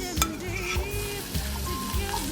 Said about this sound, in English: To our frying pan, we're going to just sweat out our ingredients.